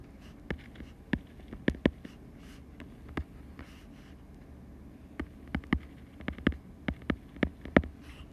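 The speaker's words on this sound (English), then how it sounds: "I'm going to write that here." A pen writes on paper during a geometry lesson, making faint scratchy strokes and sharp taps in irregular bursts over a low steady hum, with no talking.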